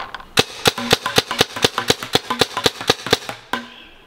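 Rapid toy cap gun shots crack out close and loud, about a dozen sharp pops in a fast uneven burst, then one last bang.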